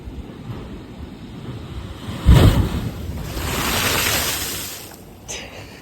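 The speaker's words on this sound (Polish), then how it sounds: "teraz idziemy zobaczyć taką wodę wyskakującą ze skały" Ocean waves roll in Australia with wind buffeting the microphone; a sudden loud whoosh of water bursts up from a rock blowhole, followed by a long spraying rush that fades.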